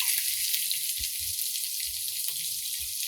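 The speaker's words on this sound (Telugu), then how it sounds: "ఇప్పుడు నేను ఇందులో ఆనియన్స్ యాడ్ చేస్తున్నాను" Constant bright sizzle of onions frying in hot oil, loud and close, with faint low thumps underneath.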